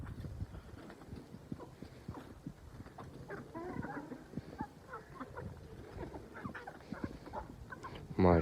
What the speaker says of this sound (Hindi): इनमें हमारी कुछ अंडा देने वाली मुर्गियाँ भी हैं और कुछ मुर्गे भी हैं